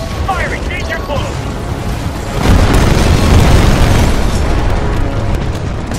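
Explosions and weapon fire from Titanfall 2 form a loud, dense, rumbling wall of booms and blasts that grows heavier midway. Voices shout over the battle.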